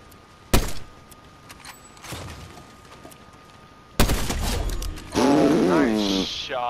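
Fortnite video game gunfire: a sharp, loud shot cracks early, with lighter thuds after and another heavy blast later, followed by a voice talking over the game sounds.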